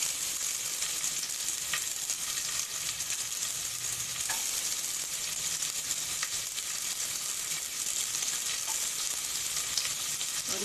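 Sliced onion frying steadily in hot oil in a pan for the chana of a halwa puri breakfast, a dense, even sizzle with faint crackles running the whole time, close and moderately loud with no voices.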